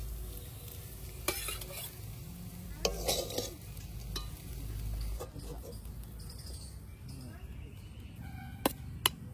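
Radish greens are stir-fried in a pan with a soft sizzle under repeated scraping and stirring strokes, quiet and close, with a few sharp clicks near the end.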